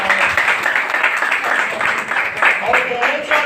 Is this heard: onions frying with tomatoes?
no